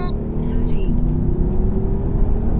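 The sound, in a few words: Audi SQ7 tri-turbo launching with boost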